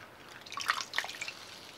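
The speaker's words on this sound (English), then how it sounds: "Swish them out, or swish your sponges so you can get them clean." Sponges swished through a bowl of water during a chemical peel facial, producing soft close splashing and dripping bursts that peak around the middle of the short clip, with no talking.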